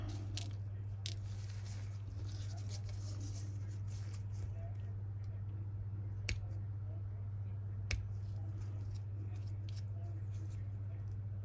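Small scissors snip nail art decorations close by, a few sharp, isolated clicks spaced seconds apart over a steady low electrical hum, with quiet faint rustles between cuts.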